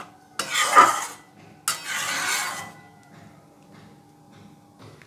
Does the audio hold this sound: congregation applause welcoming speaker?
no